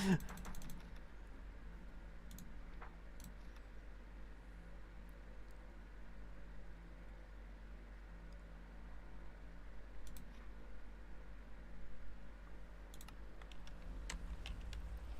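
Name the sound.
rapid mouse clicking while playing Minecraft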